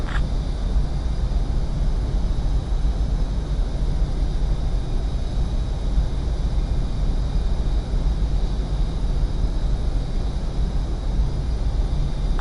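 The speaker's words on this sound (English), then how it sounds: "I need you to land that plane now." A jet aircraft in Ace Combat 7 roars in a steady, dense, unbroken rumble with a hissing upper layer, loud and constant throughout with no voices.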